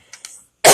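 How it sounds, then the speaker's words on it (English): A couple of quick, soft throat-clearing catches, then a sudden loud rasping burst as someone forcefully clears their throat. "Clear my throat."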